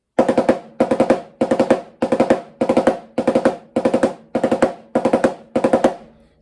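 Snare drum strokes fire in quick bursts of four, the single stroke four rudiment, repeated in a steady rhythm about eight times, crisp and close.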